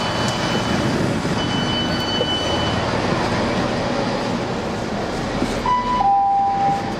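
A Chiltern Railways train bound for London Marylebone rumbles steadily along the rails from inside a carriage, with faint high squeals from the wheels near the end.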